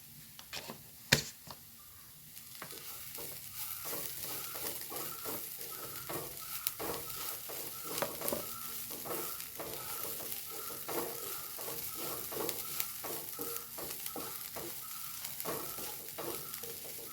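Chicken cutlet masala mixture stirred in a pan with garam masala, a continuous soft sizzle with regular, repeated scraping strokes of a spoon, after a sharp knock near the start, moderately quiet and without speech.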